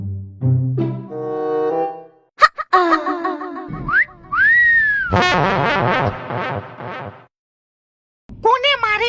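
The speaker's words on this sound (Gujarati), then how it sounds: "કોને મારી સીટી." Someone whistles in several bursts, with rising and falling pitch slides and some sustained tones, mixed with other voices and noises and a short silent gap before a final burst.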